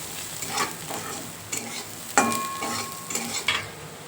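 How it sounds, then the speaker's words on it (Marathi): Spices stirred into a stuffed bitter gourd filling in a pan over low heat, a spatula scraping in several separate strokes against a soft sizzle, with a bright clink of utensil on metal midway. "आता टाकूया धनिया पावडर, हिंग, आमचूर पावडर, हळद, काश्मीरी मिरची पावडर, आणि हे छान मिक्स करूया."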